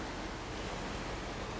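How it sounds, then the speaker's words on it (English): Steady broadband rush of a small waterfall pouring into a creek pool along a hiking trail, close and continuous with no voices. "we have a nice little waterfall coming down,"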